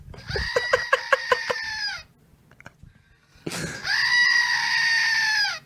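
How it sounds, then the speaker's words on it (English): A screaming goat toy sounds off loudly twice: first a choppy, stuttering bleat of several quick pulses, then after a short quiet gap a long, sustained, piercing goat scream. "the screaming goat works"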